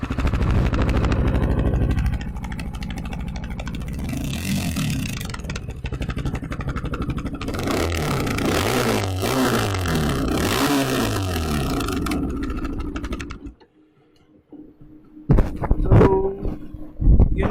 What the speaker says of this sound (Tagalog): Another thing worth mentioning is maganda yung tunog ng pipe.